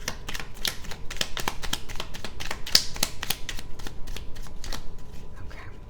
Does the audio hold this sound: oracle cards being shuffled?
yes